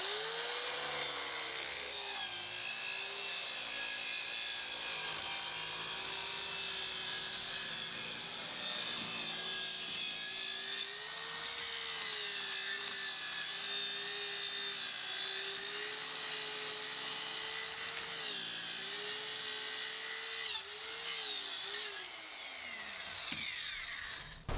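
A power saw blade bites steadily into wood for about twenty-two seconds, a loud, continuous whining cut with a slight rise and fall in pitch as the blade is pushed through, ending abruptly near the close.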